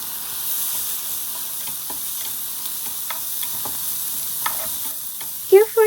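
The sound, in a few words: stir-frying enoki mushrooms, carrots and green onion with soy sauce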